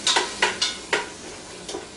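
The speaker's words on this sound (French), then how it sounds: "brasser un petit peu la mixture" A spoon scrapes and stirs a tomato mixture in a pan, five or six short, bright strokes in an uneven rhythm over a faint sizzle, close up with no talking.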